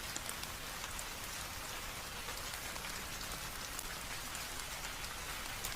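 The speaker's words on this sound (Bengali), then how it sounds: "চারিদিকে শুধু বৃষ্টির ঝমঝম শব্দ" Steady, dense rain pours down without pause, a loud continuous hiss of drops drumming on surfaces.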